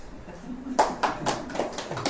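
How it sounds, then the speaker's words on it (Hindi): A small group, mostly women at a class, claps hands in a brief, loose burst of separate sharp claps that starts abruptly after a quiet moment and continues unevenly to the end. "ये लोग के लिए ताली बजा दीजिए।"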